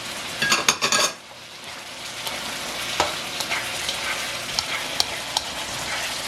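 Carrots stir-fried in a pan for fried rice with beef and sweet Chinese sausage, a steady sizzle with a burst of metallic clatter from the utensil at first, then occasional clinks against the pan.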